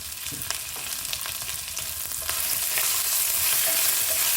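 Crushed ginger garlic paste sizzles steadily in a hot pan for a kadhi pakora, a loud, continuous hiss that swells slightly partway through, with faint stirring scrapes and no talking.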